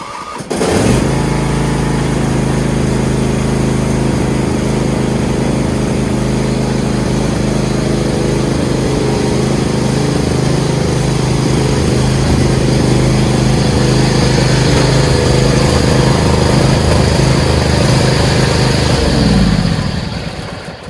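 A Craftsman PYT9000 lawn tractor engine cranks and catches, then runs loud and steady close by for about twenty seconds before cutting off.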